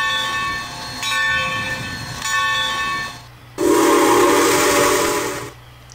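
A stopping steam train in a railroad game gives a long, loud steam whistle over a steady mechanical rumble, then a sharp burst of steam hiss breaks out and fades away.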